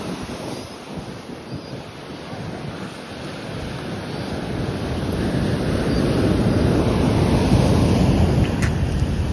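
Sea waves break continuously on Madhavpur beach, a steady roaring surf with wind noise on the microphone that grows louder toward the end.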